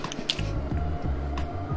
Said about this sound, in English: we're adding in the beans with all of their liquid